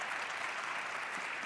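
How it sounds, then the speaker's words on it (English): A conference audience at a cultural investment event gives a steady, dense round of applause for the speakers, with no single claps standing out. "I would like to please give a big round of applause to our speakers"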